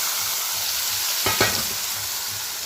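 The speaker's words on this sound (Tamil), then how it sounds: "இப்போ காயை சேர்த்து இப்போ மிக்ஸ் பண்ணிக்கலாம்" Vegetables fry in a pan with a constant bright sizzle, broken midway by a couple of scraping stirs and knocks of a spoon, all close and fairly loud.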